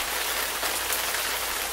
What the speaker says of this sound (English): I was talking about the rain.